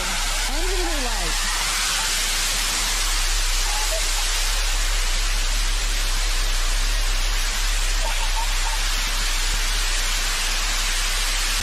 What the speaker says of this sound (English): Engine relight.